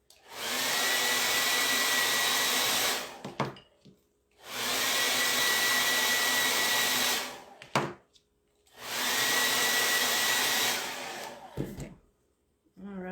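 A hair dryer blows over wax on a wooden rolling pin from a Valentine DIY kit, running in three loud, steady bursts of several seconds each, separated by short pauses with handling clicks.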